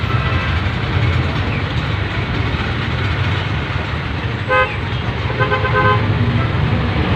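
Busy road traffic at a roundabout, with a steady roar of many passing vehicles close by and a couple of short horn toots near the end.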